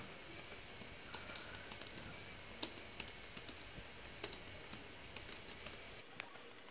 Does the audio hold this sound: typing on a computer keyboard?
yes